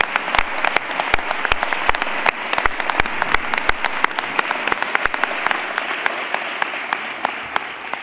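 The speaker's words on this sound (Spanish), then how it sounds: "yo quiero que le dediquemos un rendido aplauso por este trabajo que han estado haciendo" An audience at a 30th-anniversary gala applauds steadily for several seconds, with many distinct, crisp claps standing out over a warm, even wash of clapping throughout.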